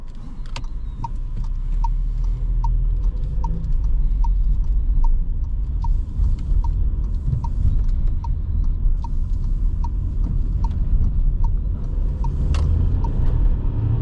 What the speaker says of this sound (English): I could probably hear some tire noise too, like when it accelerates.